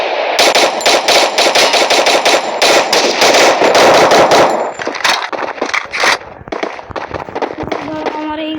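Rapid automatic gunfire in a shooting video game, loud bursts of fast shots with metallic clangs, thinning into scattered single shots and pings toward the end.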